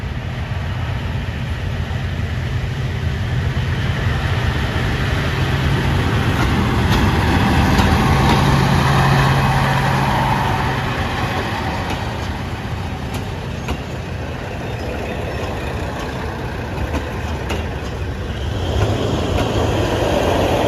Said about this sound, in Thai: กระบวนรถพิเศษนำเที่ยวกระบวนที่ 993ปลายทางชุมทางเฉลียิงเซา ออกจากสถานีกรุงเทพหัวลำโพงตามเวลาครับ